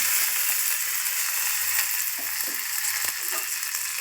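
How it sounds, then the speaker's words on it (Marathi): Steady crackling sizzle of curry leaves frying in hot oil with cumin and onion, with scattered sharp pops and spits throughout, close up and fairly loud. "कढीपत्ता टाकूया"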